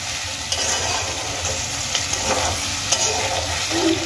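Mixed vegetables with cabbage fry in a pan with a steady, close sizzle, broken by a few soft stir scrapes. No one speaks.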